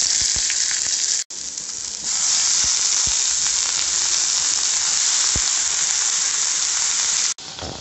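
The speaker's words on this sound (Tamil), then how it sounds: "நல்லெண்ணெய் ஊற்றிட்டு வெங்காயமும் கத்திரிக்காயும் போட்டு வதக்கிக்கலாம்" Onion and brinjal frying in sesame oil in a pan, a loud continuous sizzle with brief gaps and occasional stirring clicks, no voices.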